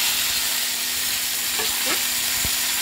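Carrots and tomatoes added to fried chillies in hot oil, a steady close sizzle and fry hiss filling the whole moment, with a couple of brief stirring scrapes.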